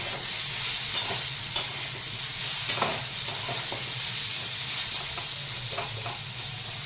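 Drumstick flowers and vegetables fry in a pan, a steady sizzling hiss with occasional clinks and scrapes of stirring, close and continuous with no talking.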